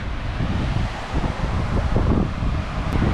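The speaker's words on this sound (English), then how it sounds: "it's a bit windy" Wind blowing across a microphone outdoors on the west coast of Fraser Island (K'gari), a rough, rumbling buffeting that stays loud and steady throughout with no voices.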